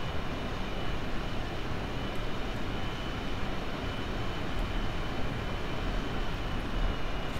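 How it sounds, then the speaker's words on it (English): A jet engine with its afterburner engaged on a craft in Kerbal Space Program roars at a steady, loud level, a broad continuous rumble with no pauses and no voices. "This one also has an afterburner, like if we toggle mode"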